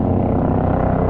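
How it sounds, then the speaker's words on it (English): A helicopter's deep, steady rotor rumble fills the air over Queenstown, loud and continuous with no other sounds. "you see a helicopter up here coming in"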